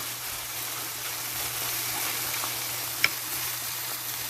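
Eggplants frying in a pan for karnıyarık give a steady, close sizzle that holds even throughout, with one brief sharp pop near the end and no voices.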